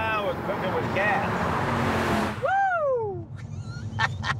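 A 2020 Mercedes-AMG station wagon accelerating hard, its engine rising as a steady low roar beneath close conversation inside the cabin.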